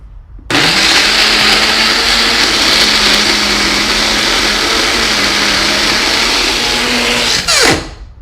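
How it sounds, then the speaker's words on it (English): A blender whirs through pesto ingredients, starting abruptly and running as a loud, steady, close motor roar for about seven seconds before cutting off and winding down. "This could be done in a food processor too."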